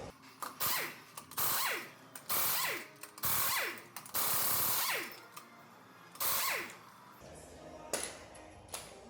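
On a 2009 Ford F150, a ratchet works at the lug nuts in a string of short, quiet clicking bursts separated by brief pauses, with no voices.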